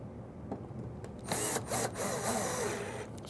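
A power drill drives low-profile screws into a wooden cabinet drawer slide, giving a few short buzzing bursts in the middle of a quiet workshop background.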